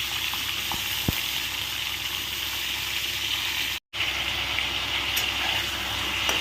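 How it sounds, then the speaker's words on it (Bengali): Stuffed pointed gourds fry in a little oil in a pan, giving a continuous close hiss and crackle with a few pops and a brief silent gap midway. "অল্প তেলে আগে থেকে ভেজে নেবে"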